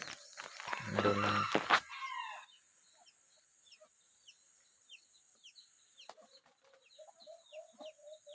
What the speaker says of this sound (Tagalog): humuhuni ang mga pangati kong alimokon guys sa bahay namin